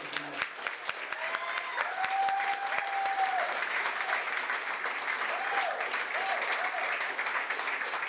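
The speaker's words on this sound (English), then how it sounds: "So, if we can, give a big round of applause for Taylor Maxey." An audience at a conference talk claps continuously, a dense steady applause filling the space at moderate loudness, with a few sharper claps standing out near the start.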